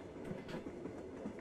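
Russian train rolling along the rails in a train simulator game, a steady rumbling run with rhythmic clicking of wheels over rail joints, continuous and fairly close throughout.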